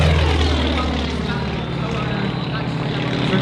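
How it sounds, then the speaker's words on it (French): A Yak-55M aerobatic propeller plane drones loudly and continuously as it is pushed to its limits, its engine holding a steady, harmonic-rich roar with slight shifts in pitch, with a voice commenting over it. "Là, Martin va au maximum de ce que l'avion peut faire"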